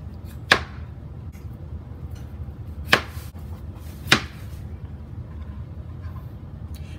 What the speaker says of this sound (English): So using my knife, or you can use a mandolin, we're just gonna cut them to about a 1/4 to 1/2 inch thick.